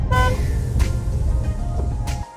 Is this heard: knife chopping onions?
no